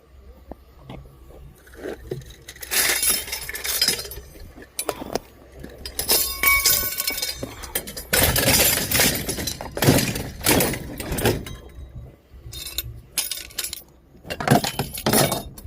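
Glass chandelier pieces clinking and jangling in repeated bursts of rattling, scraping glass, loud and close, with brief quieter gaps between handlings.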